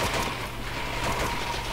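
Rifle gunfire in the Medal of Honor video game during a port city night battle, a dense steady burst of shooting and combat noise filling the whole moment without pause.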